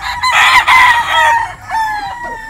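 Roosters at a gamefowl breeding farm crow loudly and close by, one long cock-a-doodle-doo followed by a second crow, with faint clucking underneath.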